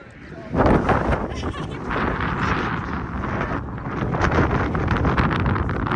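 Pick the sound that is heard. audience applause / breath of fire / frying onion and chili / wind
wind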